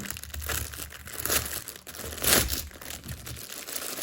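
A parcel ordered from Temu holding a cross-stitch kit is torn open, giving continuous plastic crinkling and crumpling with a louder rustling burst partway through, close and alone.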